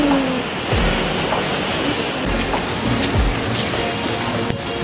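Heavy rain pours down steadily on Maui in a dense, continuous hiss, loud and close, with faint low rumbles underneath.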